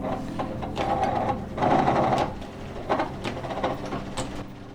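An old foot-powered wood lathe runs with a close, uneven mechanical whirring and clatter that swells and eases in pulses as the treadle is pumped.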